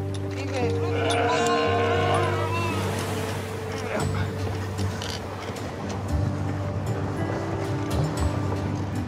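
Sheep bleat on an island by the sea, ewes and lambs being brought up together; a few close, wavering bleats come early, then steady surf and boat engine rumble carry on underneath.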